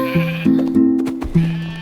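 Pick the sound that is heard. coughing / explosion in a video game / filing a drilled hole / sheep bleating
sheep bleating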